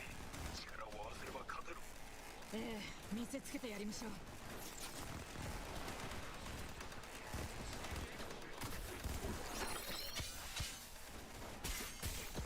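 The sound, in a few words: gunfire bullets blocked with a katana in a Nintendo Switch 2 video game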